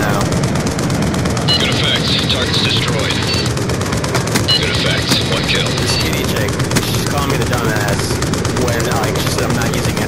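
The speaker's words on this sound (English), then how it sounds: "Friendly VTOL warship inbound." Dense, continuous gunfire and heavy weapon bursts from a friendly VTOL warship air support streak in a Call of Duty match, loud and sustained for the whole stretch, with radio-style voice lines mixed in over the shooting.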